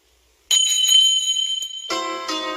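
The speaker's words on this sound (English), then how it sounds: "Maybe he'll come if we ring the bell." A bright metallic bell rings suddenly with a sustained shimmering tone, then is struck again, ringing on with rich overtones.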